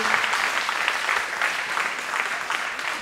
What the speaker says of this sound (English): can we have a big round of applause for our winners of the Young Leader and Youth Leader categories